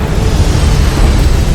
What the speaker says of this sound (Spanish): una explosión inmensa se desencadenó en el centro del valle